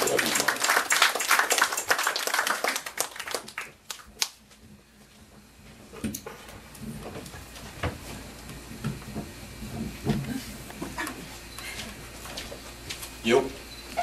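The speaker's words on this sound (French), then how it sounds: "Mesdames et messieurs, Clarence Collin-Joisin, on l'applaudit." Audience at a French poetry evening applauds loudly for a few seconds, the clapping dense and close before thinning into scattered claps and murmuring voices that carry on under quieter room sounds.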